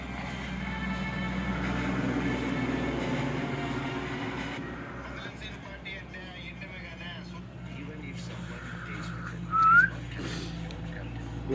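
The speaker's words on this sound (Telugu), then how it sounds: "ఎవడికి రా విజిల్ వేస్తాడు" A person whistles a brief, sharp note amid ongoing chatter and background noise, standing out for about a second near the end.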